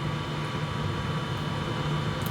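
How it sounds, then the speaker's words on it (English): The built-in extractor fan of an xTool M1 10W laser cutter whooshes as a steady, even rushing noise with a faint tonal hum, close and unbroken, no talking. "it's got a built-in extractor fan, so it gets rid of any fumes"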